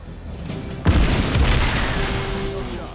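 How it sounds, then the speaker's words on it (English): A grenade explodes in the video game Just Cause 3 with a sudden loud boom, followed by a heavy rolling rumble that lingers for a couple of seconds. "I'll just throw down a grenade there"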